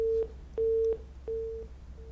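A phone's disconnected tone beeps in short repeated pulses, steady and evenly spaced, over a faint low hum.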